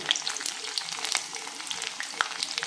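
Garlic goes into a crackling mustard seed tempering for a greens curry (bassaru), producing a busy close sizzle dotted with rapid sharp pops and spits throughout.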